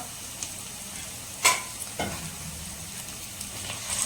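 Tomatoes hit sautéed onions in a pan for mutton-intestine gravy, crackling in a soft continuous sizzle broken by a couple of sharp clatters of a spoon against the pan.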